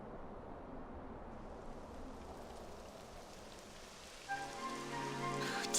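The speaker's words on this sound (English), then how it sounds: "It would have to go and start raining, wouldn't it?" Rain beginning to fall in the Dragon Quest XI video game, a steady soft patter that swells noticeably louder near the end, joined by a brighter tonal layer over the wash.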